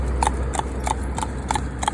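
Hooves of a cob horse clip-clop on a paved road while it is driven in traffic for the first time, with a quick, regular pattern of close, crisp paired strikes over a low background hum.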